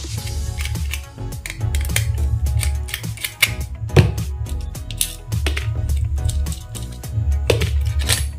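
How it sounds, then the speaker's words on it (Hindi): Screws are being undone on a TDA7498 Class D amplifier board, with a busy stream of close metallic clicks, ticks and scrapes running over a steady low hum throughout. "आईसी को देखने के लिए मैं पहले स्क्रू वगैरह खोल लूँगा"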